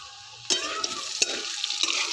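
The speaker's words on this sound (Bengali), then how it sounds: "আলুটাকে ভেজে নিচ্ছি।" Potatoes frying in a little leftover oil in a pan for a fish kalia, a loud steady sizzle that jumps up at once after a quiet start, with a few sharp scrapes of stirring close by.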